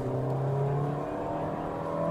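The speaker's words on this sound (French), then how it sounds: "là on entend gueuler le moteur un petit peu" A Peugeot 3008 SUV's 130 hp 1.2 PureTech engine with six-speed automatic drones and revs, rising in pitch with a steady, close mechanical hum.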